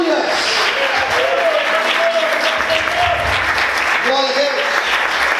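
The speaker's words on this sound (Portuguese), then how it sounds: "Você pode aplaudir a Deus." A church congregation applauding together, a loud continuous wash of clapping close around, with voices calling out and singing over it throughout.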